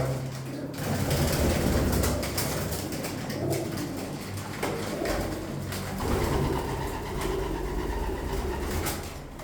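Homing pigeons coo steadily in a loft, low soft calls overlapping continuously with occasional wing flutters and shuffling.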